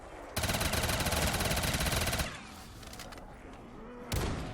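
Rapid automatic gunfire from a Call of Duty Zombies weapon with a very high fire rate, a loud sustained burst for about two seconds, then quieter game noise and a short second burst at the end.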